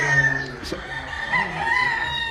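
A rooster crows at a distance amid other chickens clucking, with a faint hum of background noise throughout.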